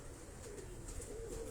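Sialkoti pigeons coo softly at a breeder's loft in Defence, Karachi, a low, murmuring burble repeating over steady background noise, with no voices.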